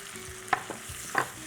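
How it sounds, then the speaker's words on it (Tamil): Prawn pickle sizzles in a pan while a utensil stirs it, soft frying hiss with two distinct scraping clinks of the spoon against the pan. "போட்டு நல்லா வதக்கிறோம்."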